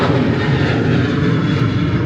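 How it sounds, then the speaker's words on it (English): An airplane takes off from Philadelphia airport, heard as a loud, steady, broadband jet engine roar filling the whole stretch with no voices. "Just gotta keep dealing with planes taking off."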